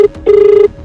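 A steady electronic tone sounds from a telephone as a call is placed, a short beep, a brief gap, then a longer sustained tone, loud and close, with no voices.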